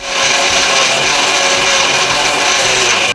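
A kitchen mixer grinder spins a mixture with milk into a thick paste, giving a loud, steady, high-pitched motor whine with gritty grinding that runs unbroken for about three seconds before cutting off sharply.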